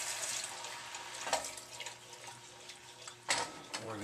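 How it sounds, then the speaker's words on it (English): Warm stock pours into a pan of cooking risotto, a close, steady liquid rush with a couple of brief splashy surges partway through. "we're going to take some of our warm stock."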